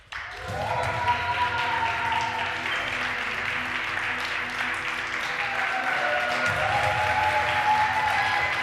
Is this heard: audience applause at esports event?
yes